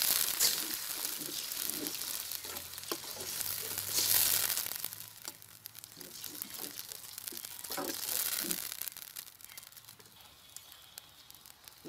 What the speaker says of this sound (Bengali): এখন আমি জল দিয়ে দিচ্ছি যাতে মশলাটা ভালোভাবে সেদ্ধ হয় এবং পুড়ে না যায়।